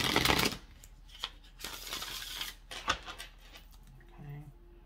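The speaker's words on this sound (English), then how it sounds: "So I'm just going to go ahead and shuffle these real quick" A deck of tarot cards is shuffled in several quick riffling bursts, a loud rush at the start and more around two and three seconds, with scattered taps and soft handling sounds between and a faint voice near the end.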